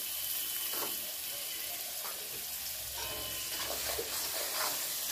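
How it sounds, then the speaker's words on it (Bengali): Salt and chopped tomato are added to a frying pan of cooking masala. A soft, continuous hiss and sizzle sounds with faint wet movement, fairly quiet and without talk. "দিয়ে দিচ্ছি পরিমাণ মতো নুন, দিয়ে দিচ্ছি টমেটো কুচি"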